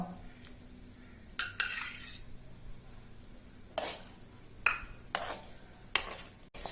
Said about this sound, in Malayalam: ആ ഒരു കൺസിസ്റ്റൻസി എത്തുന്നത് വരെ നല്ല പോലെ ഇളക്കി കൊടുക്കുക.